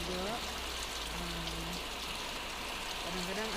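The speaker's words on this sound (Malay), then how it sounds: "Ni hujan ni dia bersama dengan angin ribut sikit lah." Steady heavy afternoon rain with gusty wind, a dense constant wash of falling water and rushing air, with someone speaking over it and faint tonal sounds drifting in the background.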